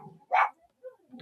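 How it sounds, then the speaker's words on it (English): Dogs bark in a loud, close burst, followed by quieter yips and scattered barks with no talk. "Dogs are going a bit crazy now."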